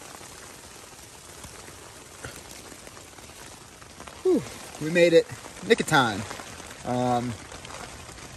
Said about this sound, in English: all that is hail slash slush slash cold Utah weather